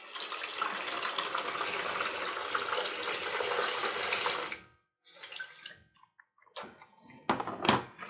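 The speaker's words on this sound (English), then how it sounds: "now we have to add just the right amount of water, because otherwise the cleaner won't start" Water pours steadily into a Thomas Aqua vacuum cleaner's tank for several seconds, a loud broadband splashing rush that stops abruptly, followed by short bursts of trickling and clunks.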